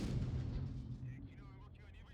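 Tank cannon shot in a video game, a single deep low boom that rolls off and fades over about two seconds, with some faint higher tones trailing after.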